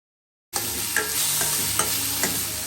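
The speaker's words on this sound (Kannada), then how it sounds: "ಆಯಿಲಲ್ಲಿ ನೀಟಾಗಿ ಫ್ರೈ ಮಾಡ್ಕೊಳ್ಳಿ ಇದನ್ನು." Ingredients for a paneer gravy sizzle steadily in hot oil in a pan after a brief silence, with a few soft stirring scrapes breaking through the close, continuous frying hiss.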